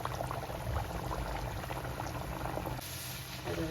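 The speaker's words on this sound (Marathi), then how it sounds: "आता तेल तापलेले, तेलामध्ये एक एक पुरी टाकायची." Pumpkin puris cook in hot oil, giving a dense, steady bubbling sizzle up close that runs without pause.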